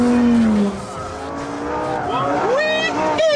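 Lamborghini Gallardo power sliding on a track, with tires squealing in rising and falling tones over a loud engine roar, close and continuous, with harmonic whines toward the end.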